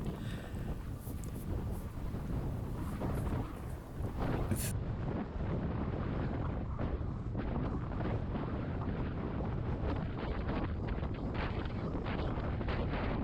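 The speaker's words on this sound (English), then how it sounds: "now you can really hear the wind blowing" Strong wind buffeting the microphone while cycling along roads on a windy July day, a loud continuous low roar with gusty rumbling that fills the whole stretch.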